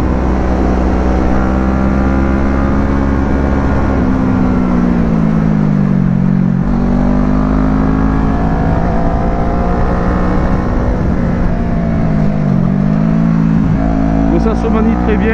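A 2012 Kawasaki ER6N restricted to 35 kW is ridden through corners. Its engine drones loudly and steadily, with the pitch sliding up and down as the rider rolls on and off the throttle, and wind noise runs throughout.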